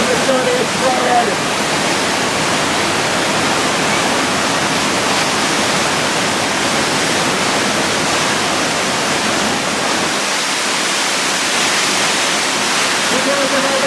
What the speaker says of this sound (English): oh no! The water main in the facility exploded!